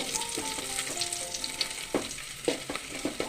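Onions sauté in hot oil for a brinjal stir-fry, giving a soft steady sizzle. Several sharp scrapes and clinks from stirring come in the second half, close by and fairly quiet, with no talking.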